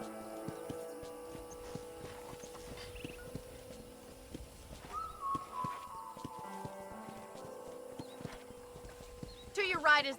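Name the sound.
horse hooves clip-clopping in a video game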